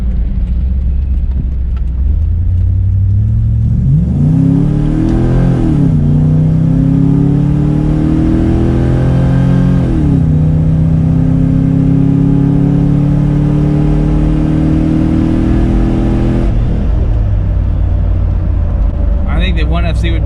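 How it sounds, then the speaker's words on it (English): An LS V8-swapped 80 Series Toyota Land Cruiser accelerates hard onto a highway, the engine note rising through the gears with steady road and wind noise throughout; someone talks over it. "It's goose it getting on the highway here."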